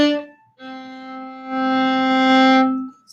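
A bowed string instrument plays a short stopped note followed by a longer sustained tone, close and solo with no talking.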